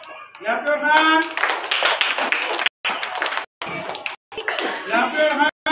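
A crowd at a school prize-giving claps hands in a steady, close burst of applause broken by a few abrupt gaps, with voices speaking over the clapping.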